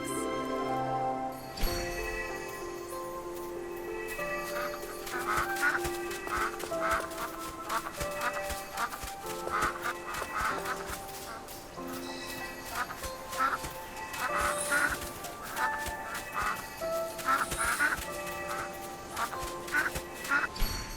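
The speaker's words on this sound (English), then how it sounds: "But how did we end up herding ducks?" Ducks quacking while being herded in the video game AFK Journey, repeated nasal quacks in irregular bursts over a background music score, fairly loud and continuous.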